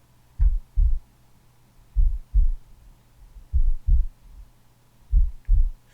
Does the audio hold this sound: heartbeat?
yes